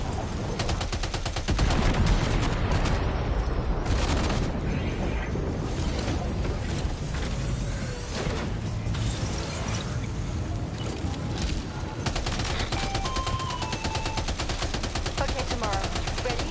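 Rapid bursts of gunfire open up and carry on for most of the stretch, loud and dense like sustained automatic fire with scattered single shots, no voices over it.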